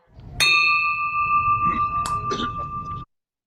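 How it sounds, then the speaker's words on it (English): A single bell is struck once at a Rotary club district assembly and rings out loud and clear. Its steady tone decays slowly for about two and a half seconds, with faint background noise underneath before it cuts off. "We're going to ring the bell."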